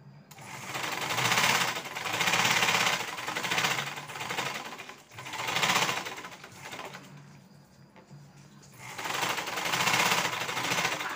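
A sewing machine stitching the back part of a blouse runs in repeated bursts of rapid mechanical whirring, with brief slowdowns and pauses between runs, close and steady with no speech.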